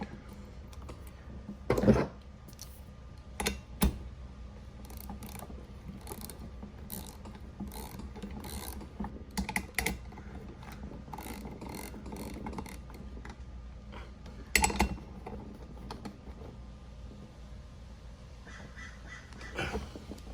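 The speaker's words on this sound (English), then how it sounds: "Make sure you got your washers in there and just torque them down" Ratchet clicks in short repeated bursts as bolts are torqued down during a Bartolone Racing reed case engine install in a Kraken VEKTA.5 RC car, with a few sharper clacks of tools on the workbench.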